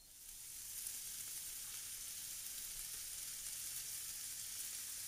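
Vegetables and bean sprouts stir-fry in a hot pan, giving a steady, close hissing sizzle that swells in the first second and then holds evenly with no voices.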